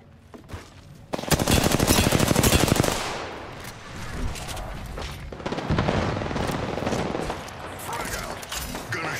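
Heavy automatic gunfire in the Apex Legends video game: dense rapid bursts at close range, loudest early then continuing in a sustained barrage with booms, under game sounds and a voice.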